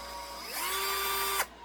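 A variable speed power drill spins up from rest, its whine rising in pitch and then holding a steady tone for about a second before cutting off abruptly.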